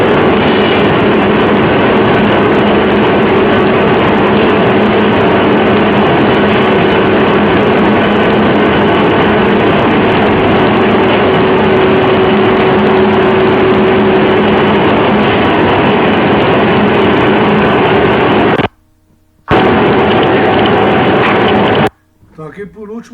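Calendering machine rollers run with a loud, continuous industrial roar and steady hum throughout, briefly cutting out near the end.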